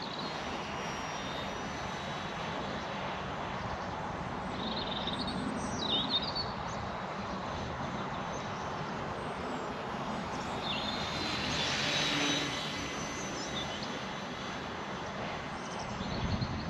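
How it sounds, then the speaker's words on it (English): VolantexRC Trainstar RC trainer plane flying overhead, its small electric motor a steady high whine that swells and fades as it passes, moderately distant, with faint birdsong and no talk. "What a fun little plane."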